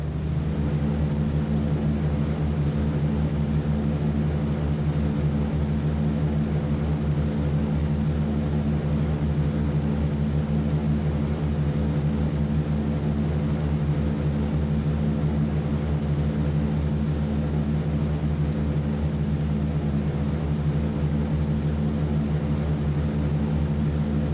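A B-17 bomber in a flight-sim game rolls for takeoff, its piston propeller engines producing a loud, steady, unbroken drone throughout, with no talking.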